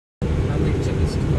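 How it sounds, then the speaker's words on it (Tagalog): An airplane landing heard from inside the aircraft, a loud steady roar of engine and airflow that begins abruptly after a short silence and holds constant. "Panoorin muna natin ang landing."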